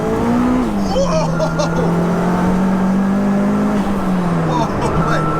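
Tracked-out 522 bhp Audi A3 1.8T race car engine drones loud and steady in third gear through a corner, pitch dipping and rising with throttle, with faint tyre noise and a voice talking over it.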